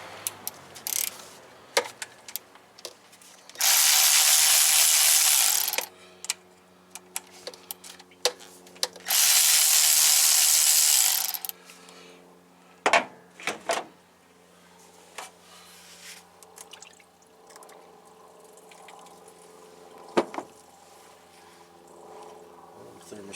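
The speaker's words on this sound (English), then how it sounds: "Got my fancy nut driver here." A ratcheting nut driver works on the thermostat housing of a 1991 GMC Jimmy, giving sparse clicks and small taps. Two loud, steady whirring runs of a few seconds each stand out between them.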